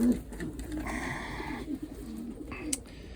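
Pigeons coo softly inside a pigeon loft, a low throaty call rising in the middle against a steady background murmur, with a brief sharp flutter near the end.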